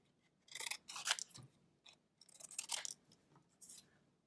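Paper being cut with scissors during an art lesson, quiet close crisp snipping in three short bursts separated by pauses.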